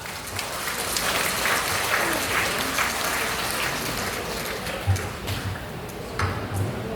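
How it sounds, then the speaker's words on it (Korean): Steady, dense applause from a large audience fills the whole stretch, a continuous patter of many hands clapping at even loudness, welcoming a vice defense minister's lecture. "강의를 큰 박수로 청해드리겠습니다"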